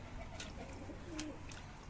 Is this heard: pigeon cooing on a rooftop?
yes